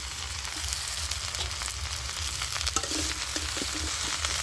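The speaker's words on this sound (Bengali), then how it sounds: "তো সবজিগুলো আমি ভালো করে ভেজে নেব।" Potato, eggplant and bean pieces frying in a pan give a steady, close sizzle with occasional stirring clatter, loud and continuous throughout with no talking.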